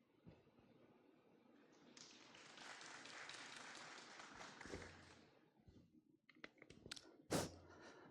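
Audience at a primary school research-school interim report meeting claps to welcome the principal, a steady wash of applause lasting several seconds, then thinning into scattered taps and a few sharp claps near the end.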